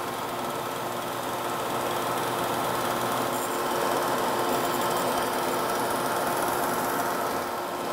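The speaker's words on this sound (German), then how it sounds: "Also wir machen jetzt praktisch an dieser Schärfmaschine nur die Kanten dünner" A leather skiving machine runs steadily for the whole stretch, thinning the edges of wallet leather pieces with a constant mechanical whir and hum at close range.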